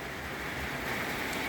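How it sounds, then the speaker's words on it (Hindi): Steady rain falls during a days-long spell of wet weather over a terrace garden, a dense, even hiss with no talk. "बारिश हो रही है"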